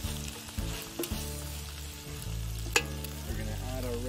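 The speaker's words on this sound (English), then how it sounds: "when the onions start turning a little bit more translucent, everything's getting nice and toasty" Onions and vegetables sauté over an open fire for venison osso buco, crackling and hissing steadily up close while a utensil stirs with a few sharp scrapes and one bright clink.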